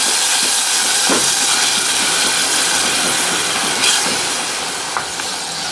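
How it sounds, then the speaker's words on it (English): A tomato and green chili paste hits a hot pan while cooking amla (gooseberry) rasam, giving a steady, loud broadband hiss with a couple of brief crackles near the end. "now I'll add the the ground paste in it that is the tomato green chili"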